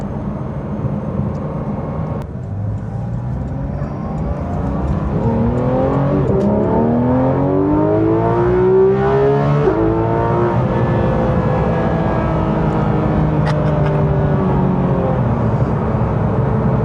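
A Porsche 911 GT3 RS engine revs up to 9,000 RPM, a loud close wail climbing steadily in pitch, peaking, then falling back after a brief lift, with a rising second pass and no talk.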